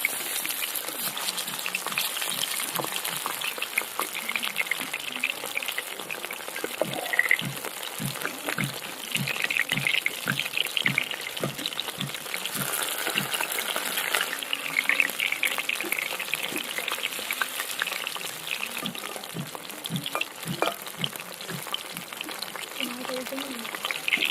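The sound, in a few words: catla fish frying in oil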